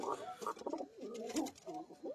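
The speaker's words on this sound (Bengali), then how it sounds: "২টা কবুতর এসছে আলহামদুলিল্লাহ।" Soft, throaty cooing of high-flying Giribaz pigeons, several rolling coos in quick succession, close and fairly quiet.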